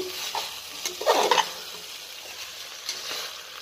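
Biryani being stirred in a hot pan, a soft scraping and shuffling of rice with a low sizzle, a brief louder burst of stirring in the middle, no voices.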